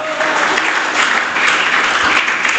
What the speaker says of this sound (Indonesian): Tepuk tangan yang luar biasa bagi Tuhan